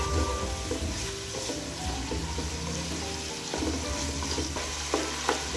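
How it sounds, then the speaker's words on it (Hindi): Chicken sizzles and fries in a pan for chow mein, a steady close crackle with occasional stirring scrapes. "अब इसको हम 5 मिनट तक फ्राई करेंगे ताकि हमारा चिकन गल जाए।"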